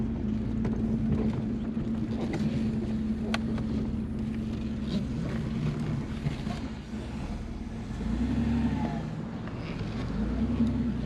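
A Maserati idles with a steady low engine drone, its tone shifting slightly as it pulls forward and backs in, close and continuous with some wind noise over the microphone.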